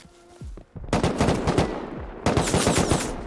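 AK rifle fire in a video game, with two rapid automatic bursts of sharp cracking shots after a brief lead-in, loud and close.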